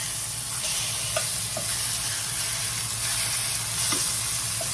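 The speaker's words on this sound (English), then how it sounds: "I'm going to give these a flip" Pork chops sizzle steadily in a hot pan after being flipped, a continuous close frying hiss with a few faint soft bumps and no talk.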